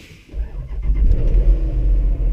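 A car engine cranks and catches after a push-button start, then settles into a deep, steady idle rumble that fills the space close by, with no talking.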